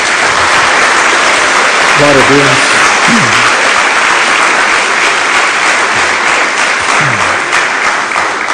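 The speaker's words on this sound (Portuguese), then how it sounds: "Dá uma salva de palmas a Jesus." A church congregation gives loud, sustained applause for Jesus during a sermon, a dense, even wash of clapping that fills the whole stretch. A voice briefly speaks over it.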